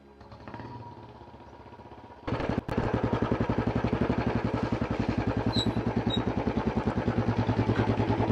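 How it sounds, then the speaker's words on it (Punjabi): A Royal Enfield Bullet motorcycle fires up after a quiet lead-in, then settles into a loud, steady thumping idle with an even, rapid beat, close to the listener. "ਬੁਲਟ ਮੈਂ ਆਪਣੇ ਦੋਸਤ ਦਾ ਲਿਆ ਪਿੰਡੋਂ ਮੰਗ ਕੇ"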